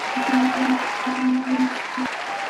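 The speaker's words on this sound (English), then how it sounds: "Let's all clap for Chibuke." A quiz show audience claps in steady, continuous applause, with a repeating electronic tone pulsing underneath.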